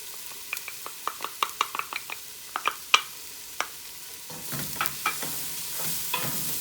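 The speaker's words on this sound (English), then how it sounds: "we'll cook these things up for a minute or 2 until the onion becomes translucent" Onion, garlic and spices cooking in a pot for a Moroccan-style stew, with soft stirring scrapes and light sizzling, a run of sharp utensil clicks against the pot, then a broader steady sizzle toward the end.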